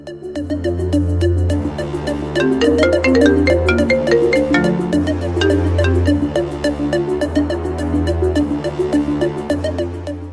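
A phone rings unanswered with a melodic ringtone that plays continuously and loudly, its tune repeating in a steady pattern.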